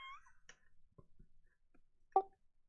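A house cat meows a few times in a quiet room, faint early calls and then one louder, closer meow near the end.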